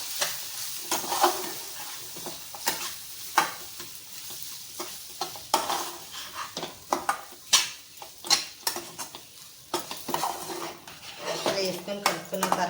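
Chili powder being mixed into semiya in a pan for egg semiya, with repeated sharp spoon scrapes and clanks against the pan over a soft sizzle, close and fairly loud.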